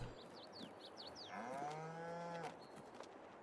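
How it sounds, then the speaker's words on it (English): Cattle in Farming Simulator 22 give a long, drawn-out moo at moderate distance, preceded by several short chirping calls and steady low background ambience. "boy cow, are you noisy."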